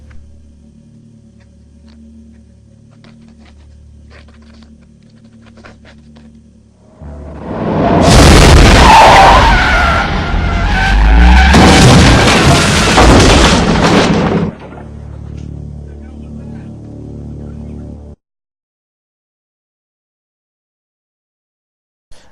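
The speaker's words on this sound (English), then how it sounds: "He drove his motor vehicle straight into the police station and demolished his obstacle." A car smashes into a police station in a film action scene from The Terminator, a loud sustained crashing roar of impact and destruction lasting several seconds between quieter low rumbling passages, with no speech.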